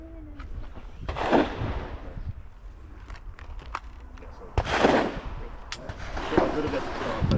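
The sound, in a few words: handgun shots at shooting range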